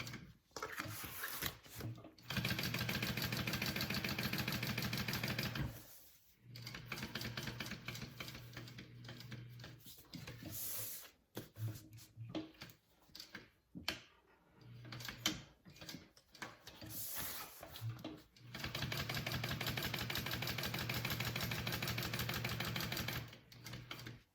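A sewing machine running a double row of stitching along a bag, with close mechanical whirring bursts that start and stop in long runs between pauses and fabric handling.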